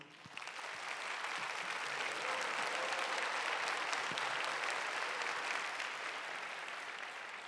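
A church congregation applauds in blessing at a young adults' worship service, a steady, dense wash of clapping from a large room that holds evenly for several seconds before tapering slightly at the end.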